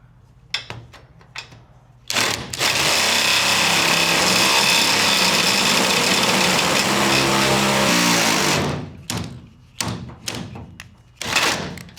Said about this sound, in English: Just need to drill a hole in the roof, put my bolt through.